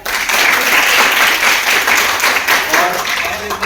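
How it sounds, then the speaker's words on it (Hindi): Loud, vigorous applause from an audience at a youth team meeting in Ballabgarh swells and holds steady, with a voice speaking over it. "पायल जोरदार तालियां।"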